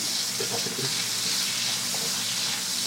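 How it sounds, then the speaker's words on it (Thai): Garlic and shrimp paste stir-fried in a pan, a constant dense sizzle and hiss with light scraping from the spatula, no voices. "ก็ผัดให้มันหอม"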